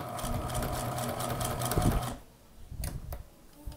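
A Singer Precisa domestic sewing machine stitches in a fast, steady run of needle clatter close by, then stops and gives a few short, quieter bursts.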